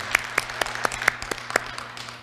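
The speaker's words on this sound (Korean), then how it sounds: "여러분도 박수 치셔도 돼요. 한번 쳐볼까요?" A congregation in a Korean church gives a short burst of applause, a few distinct sharp claps at an uneven pace over a low room hum, fairly quiet and ending in a soft fade.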